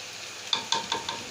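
Aloo palak cooks in desi ghee in a pan with a low sizzle and four quick, evenly spaced stirring taps of a spoon against the pot, with no talking.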